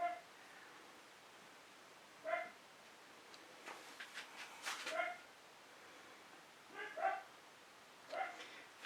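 Several house dogs bark at a passing dog walker in short separate bursts spread over several seconds, with yips and a little rustling between them, moderately near.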